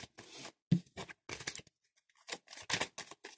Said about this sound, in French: je poursuis le brassage des cartes